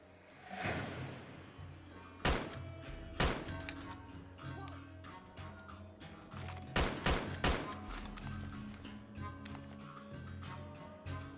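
Gunfire in the video game Fallout: Tale of Two Wastelands: several sharp, loud shots ring out at irregular intervals over a steady, rumbling game background.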